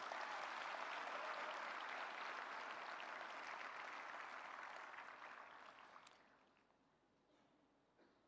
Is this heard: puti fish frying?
no